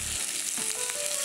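Chopped tomato dropped into a hot pan sets off a brief burst of sizzling, with a short low thump at the start and steady frying hiss after.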